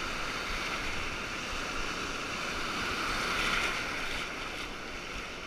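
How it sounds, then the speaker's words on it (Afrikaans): Choppy, rough water sloshing around a fishing boat at Macassar, a steady broadband wash with a slight swell in the middle, close and fairly loud, with no voices. "Water is a bit rough."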